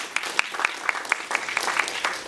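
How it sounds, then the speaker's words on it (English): At a Café Scientifique talk on the immune system, an audience claps for graduate students. The applause is moderately loud and sustained, with sharp individual claps standing out in an uneven rhythm and no talking. "Big applause for the grad students."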